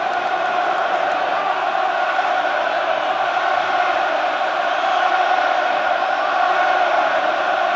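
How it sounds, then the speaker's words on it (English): Rugby crowd at Lansdowne Road during Ireland versus England in the Six Nations, a sustained loud roar filling the stadium as the home side sits five metres from the England line, steady and unbroken throughout. "As the roar comes up from the Lansdowne crowd"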